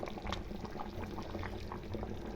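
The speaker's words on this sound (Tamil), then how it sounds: "இப்போ மீன் நல்லா வெந்து குழம்பு கொதிச்சிடுச்சு" A pot of fish kuzhambu, a garlic-onion ground fish curry, boils steadily on the stove with dense, continuous bubbling and popping, close and moderately loud, without any talk over it.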